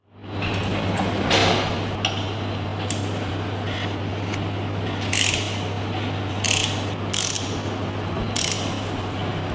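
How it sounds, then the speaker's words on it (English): A custom steel tool turns the crankshaft of a Ducati Panigale V4 SP by hand during an engine overhaul, giving a series of close, quiet ratcheting clicks and mechanical clunks over a steady hum. "We use this steel tool to manually turn the Ducati's crankshaft"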